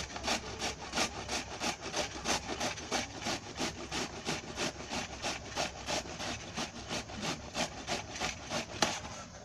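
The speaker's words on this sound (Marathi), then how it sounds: "आता मी तुम्हाला किसून दाखवते. असे कोवळे आणायचे आणि असे आहे ना असे किसायचे." Tender bottle gourd rubbed against a hand grater in a home kitchen, a steady run of quick, evenly spaced rasping strokes that continues close and alone throughout.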